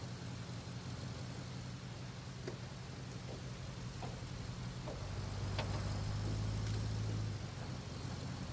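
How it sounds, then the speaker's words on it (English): In the video game RoadCraft, steady rain hisses as a broad, even wash over a low vehicle engine drone, continuous and moderately loud with a few faint knocks, no voices. "I think I've had more rain today than I had before they put the patch in to reduce rain."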